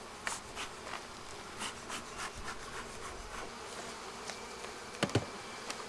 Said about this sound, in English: we're going to be getting the bees off the frames